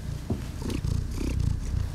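A cat purrs close up in a home with medium to deep pile carpet, a steady, throaty rumble that pulses softly over two seconds.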